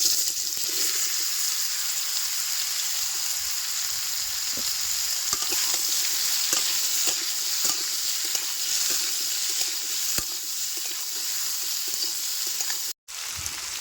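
Raw mango pieces frying in hot oil with bay leaf, cumin and panch phoron for mango jelly, a continuous loud sizzle with scattered clicks of stirring and a brief cutout near the end, no talking.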